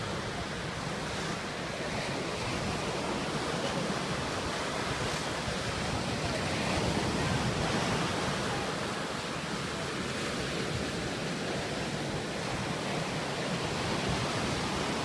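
Ocean surf washes up on a beach in a continuous broad roar, mixed with wind buffeting the microphone, steady and fairly loud with no clear voices.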